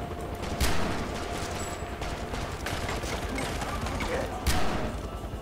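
MS-16 rifle fire in the video game Far Cry 4 comes as rapid bursts under steady background action, with two louder sharp blasts standing out, while players talk over it.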